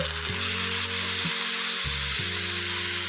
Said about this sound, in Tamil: தக்காளி கொஞ்ச நேரம் நல்லா வணங்கட்டும்